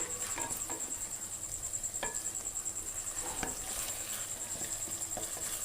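Pumpkin sabzi fries over a high flame in a pan, with a constant sizzle broken by sharp, irregular scrapes and clinks of a stirring spoon, heard up close and without voices.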